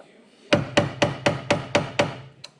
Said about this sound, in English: all I'm trying to do here is hammer down the cotter pin